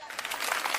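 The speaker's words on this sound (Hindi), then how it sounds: "ताली बजाओ।" Audience applause at a Hindi comedy poetry show (hasya kavi sammelan), a brief burst of steady broadband clapping that holds level through the moment with no voice over it.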